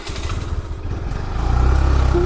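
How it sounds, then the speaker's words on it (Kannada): A scooter's small engine runs close by, a steady low putter that grows slightly louder and fuller in the second half, with no speech over it. "ಸ್ಕೂಟಿ"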